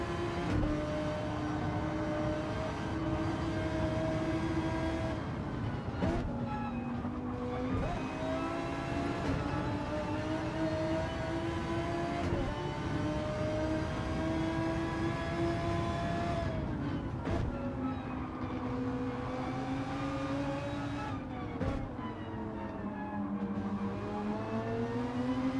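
An Audi R8 race car engine heard onboard on track, a continuous loud drone that rises and falls through the revs, with a few brief dips like gear shifts, lasting over twenty seconds with no talk.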